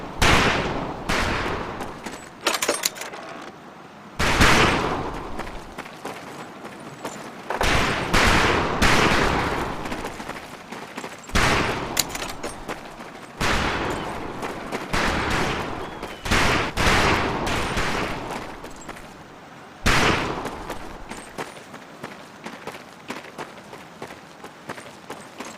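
Loud, repeated volleys of rifle and heavy weapons gunfire crack and roll in Medal of Honor Pacific Assault bootcamp training, with bursts every few seconds that decay into echoing tails.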